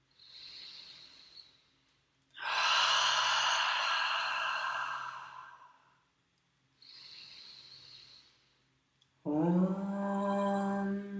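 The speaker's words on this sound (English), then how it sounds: "Cleansing breath to begin." A slow cleansing breath taken during a yoga breathing practice: a soft inhale, then a long full exhale through the nose, then a second gentle inhale and a breathy release, close and quiet.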